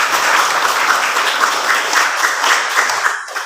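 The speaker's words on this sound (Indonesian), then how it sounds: "Mari kita berikan tepuk tangan yang sangat meriah." Schoolchildren in a classroom clap together in a steady, lively burst of applause that carries on for a few seconds before tapering off at the end.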